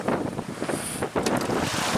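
Gusty wind on a coast near Karaburun buffets the microphone in loud, rough bursts, with a whooshing roar that rises and falls over a couple of seconds.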